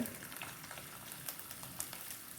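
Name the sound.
ginger frying in coconut oil in a pan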